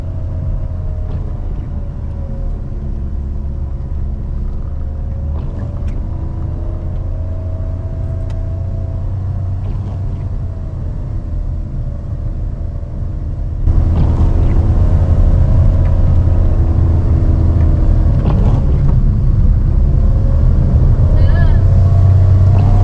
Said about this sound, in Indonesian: Ini agak dikebut ini area, gasnya agak ditekan ini dalam nih.